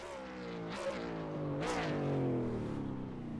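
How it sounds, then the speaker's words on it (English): A V8 supercar in the iRacing game revs up in two rising bursts, its engine note climbing and sliding in pitch, loud and close, ending in a long drawn-out wail. "Oh, V8 supercar."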